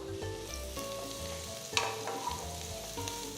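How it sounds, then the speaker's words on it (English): Chopped onions and garlic saute in butter in a pan for Mexican rice, a steady close sizzle with soft scraping stirs and a brief sharper clatter midway, no voices. "Saute the onions and garlic."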